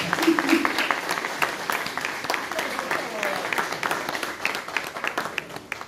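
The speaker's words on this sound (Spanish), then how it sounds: "pido un fuerte aplauso" A crowd applauds steadily at a Ford Mustang presentation at a car dealership, a dense wash of clapping that carries on for several seconds without pause, with voices faintly mixed in.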